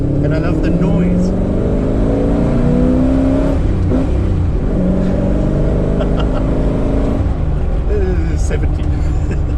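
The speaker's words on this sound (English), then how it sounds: "I love V8s and I love the noise" A car engine rumbles and revs steadily at close range, with deep harmonics rising and falling throughout, loud and continuous.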